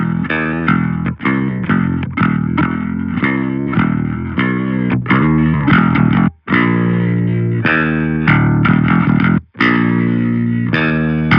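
Loud, heavily distorted electric guitar through a Hellraiser amp plugin with mids cut, riffing with chugging chords and brief pauses between phrases.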